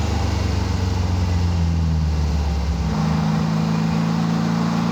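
A 1948 Porsche 356 Speedster replica cruising at about 44 mph, its engine humming steadily from close by, then dropping to a lower, steadier drone partway through; no talking.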